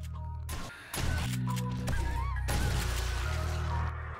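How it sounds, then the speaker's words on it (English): Honking bird calls cut through a dense, loud game soundscape of rumbling ambience and impacts in the 7 Days to Die: Darkness Falls survival horror game, recurring briefly across the clip. "I heard a bird."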